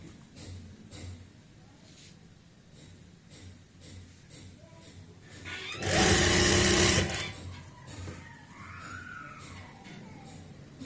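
A sewing machine runs a basting stitch along the fold of a kameez, one loud burst of rapid whirring lasting about a second, set amid quieter handling and light ticking before and after.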